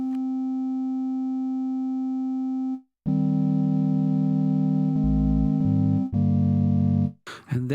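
Ensoniq EPS-16 Plus sampler playing a looped transwave sample: steady sustained synthetic tones held in a few blocks, with a brief gap and pitch shifts between them.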